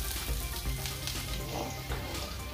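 Three dried red chillies and finely chopped ginger fry in hot oil with a soft, steady crackling sizzle, close and quiet, with no talk.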